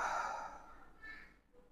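A slow exhale in a breathing exercise for nerve pain recovery, a soft breathy rush that fades over about a second, then a fainter second breath.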